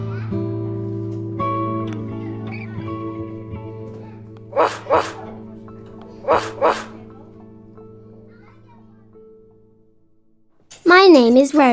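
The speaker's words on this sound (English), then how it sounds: "Dog." Two short pairs of dog barks sound from an assistive communication app, quick yips close and clear after sustained tones, with synthetic speech ending the stretch.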